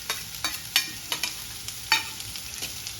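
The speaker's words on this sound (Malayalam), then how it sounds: "ഇനി ഇതൊന്ന് രണ്ട് മൂന്ന് മിനിറ്റ് ഒന്ന് വഴറ്റാം സവാള ഒന്ന് വാടി വരട്ടെ" Onion and green chilli sauté in a pan with garlic, giving a close, steady sizzle broken by several sharp stirring scrapes.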